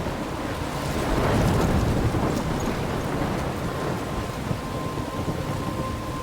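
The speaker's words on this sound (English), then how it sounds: "I'm trapped in a storm?" Thunderstorm in the video game Life Is Strange: steady heavy rain with a deep rolling rumble of thunder swelling early on, then a continuous hiss of downpour throughout.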